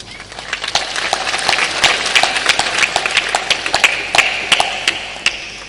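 A crowd claps along together, a lively mass of hands with sharper individual claps popping out above a steady patter, the rhythm growing slightly more pronounced toward the end, with no voices over it.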